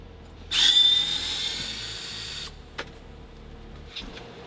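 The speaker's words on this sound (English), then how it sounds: "That was some scraping." Scraping on a dash panel during a car restoration: a shrill, grinding rasp lasting about two seconds, followed by a couple of brief clicks and knocks in a quiet room.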